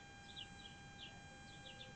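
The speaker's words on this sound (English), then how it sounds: "And as you can hear the birds in the tree," Faint bird chirps repeat a few times against a steady electrical hum and low background noise.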